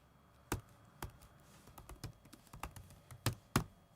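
Fingers type on a laptop's chiclet-style keyboard, giving light, uneven clicks with a few sharper taps standing out against a quiet background.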